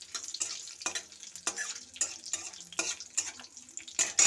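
Whole cumin, bay leaf and dried red chili fry in hot oil while being stirred, a soft sizzle under repeated scraping strokes of a spoon across the pan at a loose, steady rhythm.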